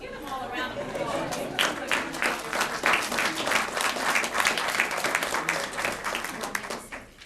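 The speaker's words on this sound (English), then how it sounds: "give them all a round of applause" Steady applause from a crowd at a school board meeting fills the whole stretch, many hands clapping evenly with faint chatter underneath.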